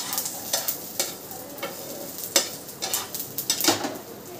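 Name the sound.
masala being roasted and stirred in a pan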